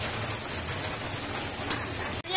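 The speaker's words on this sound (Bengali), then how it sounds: "এখানে প্রচুর বৃষ্টি হচ্ছে, মানে টানা সকাল থেকে একদম একটানা বৃষ্টি চলছে।" Heavy rain pours down steadily, a dense continuous hiss of drops drumming on surfaces, with a short knock near the end.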